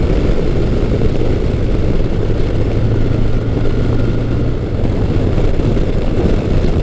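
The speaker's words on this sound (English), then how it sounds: "that little bit of Kawasaki whine." A Kawasaki Concours 1000 motorcycle engine roars steadily with a high, thin whine riding over the rumble, loud and close throughout.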